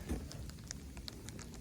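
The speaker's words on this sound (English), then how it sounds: "you're hearing freezing rain hit my hat." Freezing rain ticks and patters on a hat in a snowy Georgia farm setting, a steady close run of small sharp taps over low background noise, with no talking.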